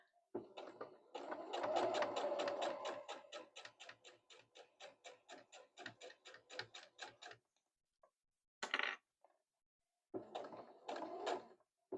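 A domestic sewing machine stitching along a fabric seam runs in a steady rapid rhythm of needle strokes, slowing to spaced ticks before stopping, then a brief mechanical burst and another short run follow, close and clear.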